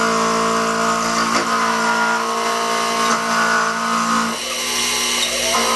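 A machine cuts the top spigot of a Stuart Beam steam engine gland, a steady high whine of the spindle and cutter running continuously, with small shifts in tone as the cut proceeds.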